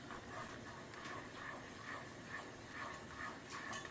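Water tinted with a few drops of red food colouring boils in a pot with a steady, fairly loud hiss and bubbling that runs evenly throughout, with no voices.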